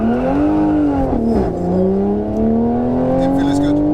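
Engine of a Stage 1 450 bhp Audi RS3 or Stage 2 460 hp Toyota Supra launching hard in second gear in a drag race. Loud, close and continuous, its pitch climbs, dips briefly, then keeps rising.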